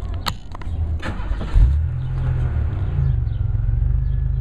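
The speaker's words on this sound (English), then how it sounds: "let's start the car." A 1994-1996 Pontiac Grand Prix engine cranks briefly, catches with a loud burst, then settles into a steady low idle rumble, heard close up.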